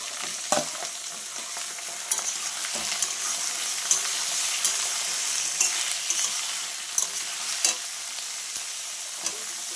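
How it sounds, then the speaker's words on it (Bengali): Jackfruit pieces fry in hot oil with a continuous, even sizzle, punctuated by occasional sharp clicks and taps of a spatula stirring them around the pan. "আমি এবার ইঁচড়গুলো দিয়ে দেবো ওই তেলেই। ইঁচড়টা একটু নাড়াচাড়া করে তুলে নেব।"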